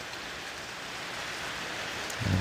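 Night rain that is easing off gives a soft, steady hiss, with a faint low thump near the end.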